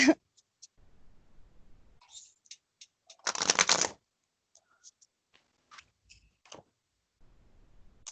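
Cards of a Gaia Oracle deck being shuffled by hand, sparse soft ticks and flicks of the cards with one longer, louder riffle in the middle, quiet and close, with the room otherwise nearly silent.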